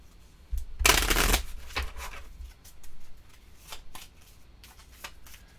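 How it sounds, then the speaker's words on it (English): A deck of cards for the Sentinels of the Multiverse board game is shuffled up close, with one loud riffling burst followed by quieter flicks and soft handling rustles. "So we're doing a quick shuffle here."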